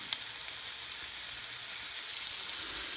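Breaded chicken nuggets frying in hot oil, a steady close crackling sizzle with fine hissing texture throughout, no talking.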